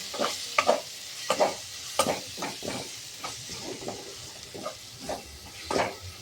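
Chilli powder and cumin powder spice paste for an egg tarka sizzles in a hot pan while it is stirred. Repeated scraping strokes come close and fairly loud over a steady frying hiss, with no talking.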